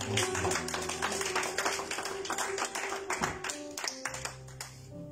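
A church congregation at a Pentecost evening service claps rhythmically in acclaim of the Lord, steady loud hand claps over music with a tonal hum.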